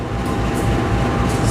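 A vintage locomotive in 1980s PJKA livery hauls the KA Kahuripan passenger train past in a loud, continuous rumble of wheels and carriages, heavy and close.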